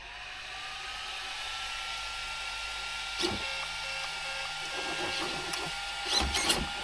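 A brushless Gorgon RC car is switched on and gives off a faint, steady electronic whine. A few soft clicks and short bursts follow, all close by and quiet.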